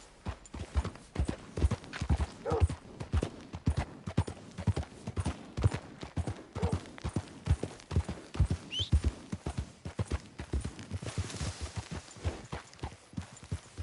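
A horse walking in Red Dead Redemption 2, its hooves clip-clopping in a steady, even rhythm, fairly close and moderately quiet, with faint background ambience and little else.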